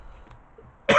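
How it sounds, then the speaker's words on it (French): One short, harsh cough bursts out close to the microphone after near silence and ends abruptly. "je vais tousser"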